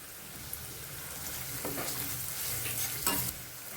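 Spinach is tipped into a hot pan with onion-garlic masala and stirred, giving a continuous close sizzle and frying hiss with a few louder scrapes and clatters as the greens get tossed, and no talking.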